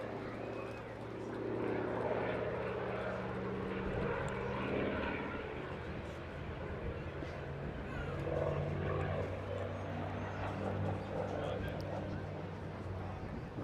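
Airshow aircraft over the beach at Eastbourne flying its final maneuver, a steady droning engine roar with shifting tones that stays loud and continuous throughout, with a commentator talking over it.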